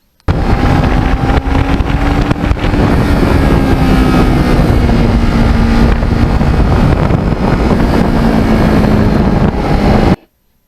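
A Kawasaki Ninja 650R motorcycle rides along autumn roads with a loud, steady engine drone and heavy wind rush for about ten seconds, ending abruptly.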